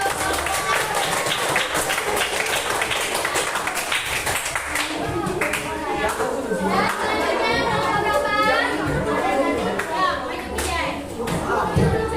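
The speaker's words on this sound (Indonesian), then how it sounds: "Oke, beri tepuk tangan untuk" Children applauding in a classroom, a dense run of many small hands clapping at close range under lively kid chatter and a few thumps, steady and busy throughout.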